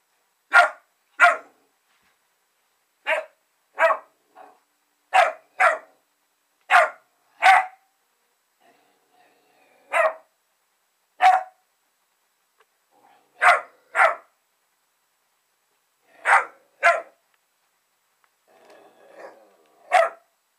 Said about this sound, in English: That doggy in the mirror.